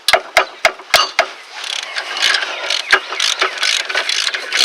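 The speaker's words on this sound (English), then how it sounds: "So we'll go ahead and take those off, and you'll have to have a little bit bigger of a socket to get these off." A ratchet and socket clicking on brake caliper bracket bolts of a Ford Taurus, a quick series of loud distinct clicks followed by faster, softer ratcheting, close up.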